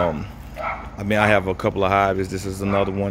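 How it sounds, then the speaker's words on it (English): A neighbor's dog barks outdoors somewhere off to the side, a few yips partly buried under someone talking close by. "that's my neighbor's dog"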